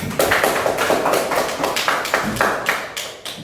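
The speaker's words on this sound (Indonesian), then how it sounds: "Tepuk tangan dulu untuk kelompok 4" Classroom applause from fourth-grade elementary pupils for group 4 during an environment lesson: steady, fairly loud rapid hand claps from many children close by, without talk over them.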